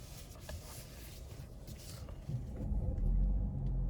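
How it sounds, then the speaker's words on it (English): A 2020 Lincoln MKZ Hybrid's gasoline engine starting back up after running in EV mode, a low rumble rising in the second half and holding steady inside the cabin. "that was the motor just starting back up after being in EV mode"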